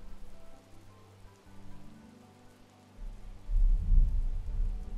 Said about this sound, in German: genau über uns, ist ein Gewitter.